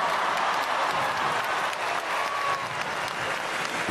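A concert crowd applauds at an open-air tribute in Mexico City's Zócalo, a broad, even wash of clapping heard from a distance.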